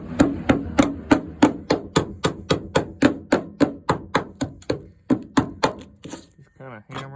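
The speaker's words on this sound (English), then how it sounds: "Just kind of hammer it off and it comes right off." Steady, rapid hammer blows knocking old sound deadener off the floorboards of a 1963 Pontiac Star Chief, about three per second, close and loud, pausing briefly before a few more strikes and a short squeak.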